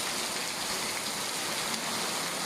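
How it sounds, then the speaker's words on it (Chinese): A heavy evening downpour pours during a thunderstorm in a village near Hanzhong, China, a dense, steady, hissing wash of rain with no let-up. "电闪雷鸣，瓢泼大雨，"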